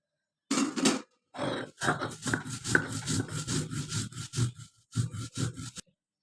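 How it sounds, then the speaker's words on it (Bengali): Roasted black cumin seeds ground by hand on a flat grinding stone, the same slab used earlier for taro leaf mash: close, repeated rasping strokes in short bursts with brief pauses, steady back-and-forth rubbing of stone on stone. "কচু পাতা যে পাটায় ভর্তা করছি ওই পাটায় আবার কালো জিরেগুলো বেটে নেব"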